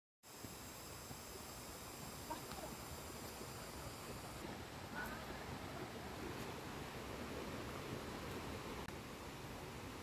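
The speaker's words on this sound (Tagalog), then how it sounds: "Lagaslas ng tubig." Steady rushing water from a nearby waterfall at a botanical garden on Penang Island, a continuous broadband roar holding at an even level from start to end, with no voices.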